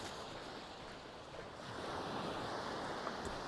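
Sea waves wash onto the beach at Waxham on the Norfolk coast in a continuous broad surf roar mixed with wind, growing slightly louder partway through.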